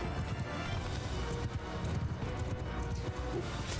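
Horse archers gallop in a Mount & Blade II: Bannerlord battle, a continuous loud thunder of hooves clip-clopping together with occasional crashes and whinnies, filling the whole stretch with no speech.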